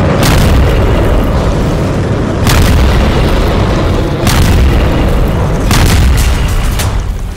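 Repeated deep booming blasts from a missile attack on an underground facility, loud and continuous with rumbling bursts recurring every couple of seconds, no voices.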